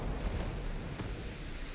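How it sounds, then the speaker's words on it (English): A warship in the naval game Ultimate Admiral: Dreadnoughts explodes while heavily flooded, giving a deep, rumbling, continuous boom that stays loud for the whole short stretch, with a faint sharper crack near the middle. "Whoa, explosion just then."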